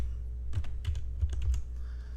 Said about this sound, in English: now I'm going to type in Morris Mace.